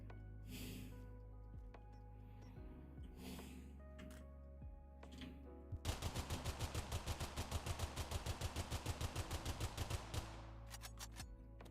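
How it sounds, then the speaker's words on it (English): Rapid, evenly spaced automatic gunfire fired at mines in the video game Drive Beyond Horizons, a loud sustained burst of about four seconds midway through, set against a steady low engine hum. "No, you can't shoot the mines."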